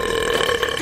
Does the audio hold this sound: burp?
yes